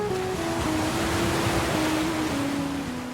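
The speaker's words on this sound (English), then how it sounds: "Ocean waves wash up against jagged black outcrops. Along oceanside cliffs, the incoming waves burst on impact into plumes of white spray." Ocean waves breaking against jagged black rock outcrops along seaside cliffs, a continuous loud roaring wash of surf with no voices.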